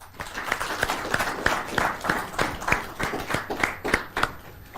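Studio audience clapping on a live Kenyan TV talk show, a steady patter of many hands with rhythmic bursts, loud and close, with no talk over it.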